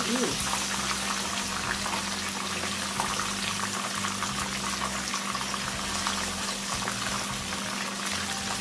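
Fish fillets frying in hot oil in a pan after being flipped, a loud, dense, continuous sizzle and bubbling hiss that holds steady throughout with a faint low hum beneath.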